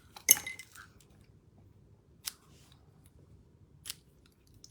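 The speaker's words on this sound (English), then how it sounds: "Now where's my ribbon scissors?" A few crisp snips of scissors cutting ribbon, one sharp cut followed by two quieter ones spaced apart, over a faint background hush.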